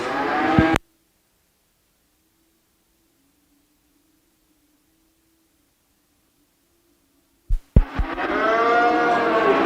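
A Simmental Cross steer at a commercial cattle show at the Edam fall fair in Saskatchewan gives a short call. A long silence follows, then a louder, drawn-out moo.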